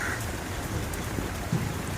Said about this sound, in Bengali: মুম্বাই এসেছি, প্রচুর পরিমাণে বৃষ্টি হচ্ছে